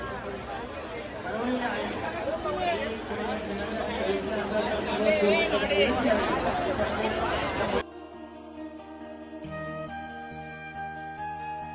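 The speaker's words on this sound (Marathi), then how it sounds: "गर्दीचा अंदाज घ्या मित्रांनो, गर्दीचा" Dense crowd chatter fills a Shiv Jayanti street celebration in Amrut Nagar, Ghatkopar, a steady babble of many voices that abruptly gives way to sparser sound with tonal music-like lines near the end.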